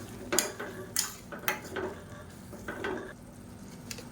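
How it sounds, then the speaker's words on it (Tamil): A spoon stirs potato and soaked dried pea curry in a pan, with several distinct metallic scrapes and clinks against a light sizzle, up close. "இப்போ இதோடு சேர்த்து இதையும் நல்லா கிளறி விட்டுக்கலாம்."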